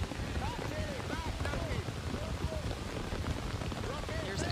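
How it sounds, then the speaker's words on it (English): Heavy rain pours steadily at a televised women's football match in Cary, North Carolina, a dense constant hiss filling the background beneath commentary and crowd noise. "you might actually be able to hear the rain, as it is just pouring here in Cary, North Carolina."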